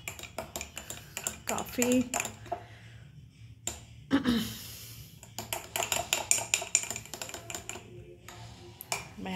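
Spoon stirring chia seeds in a dish, a run of bright clinks and scrapes against the bowl in uneven bursts with brief pauses, close up, with someone speaking now and then.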